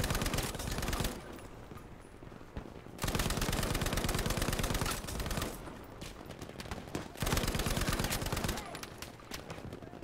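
Sustained bursts of Lewis Gun machine-gun fire in the Battlefield V Arras Breakthrough map, loud and rapid, broken by short pauses between long strings of shots.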